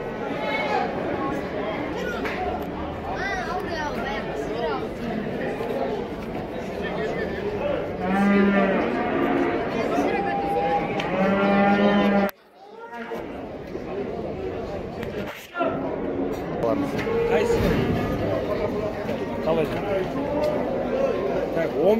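Cattle and young bulls lowing at a busy livestock market, several drawn-out moos rising over steady crowd chatter and people talking nearby, with brief dropouts in the background noise.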